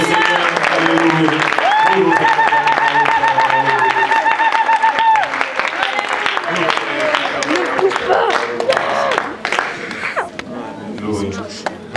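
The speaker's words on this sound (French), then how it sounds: "nous pouvons applaudir le Seigneur" Congregation clapping during a church wedding ceremony, sustained applause mixed with singing and a preacher's voice over music, loud and continuous through most of the stretch.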